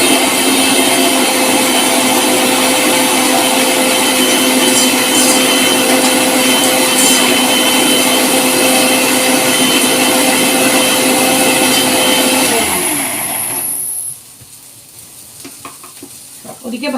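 A grinder works ginger-garlic paste and onion in a home kitchen, a loud, continuous whirring drone that winds down and stops near the end, followed by quieter clinks.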